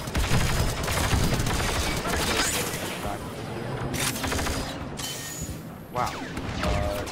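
Blaster fire crackles in a Star Wars Battlefront Galactic Assault battle on Kashyyyk, with dense rapid overlapping shots, explosions and mechanical clatter forming a loud continuous barrage, with game voices under the fire.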